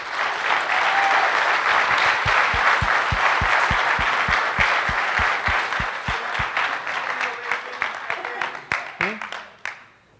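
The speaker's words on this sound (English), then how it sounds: "she deserves a round of applause" Conference audience applauds after a closing keynote, a loud sustained wash of clapping with one rhythmic clapper standing out, thinning to scattered claps and a few voices at the end.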